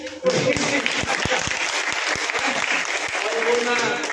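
An audience at a meeting in a hotel claps steadily, a dense burst of applause with sharp individual claps, while a voice speaks over it near the start.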